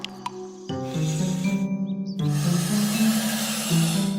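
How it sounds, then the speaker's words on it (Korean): Cartoon wolf blowing with all its might, a sustained, loud whoosh of breath rising over a tonal musical bed, with a brief lull before a stronger burst that continues to the end. "이렇게 말하고 늑대는 온 힘을 다해 바람을 불었어."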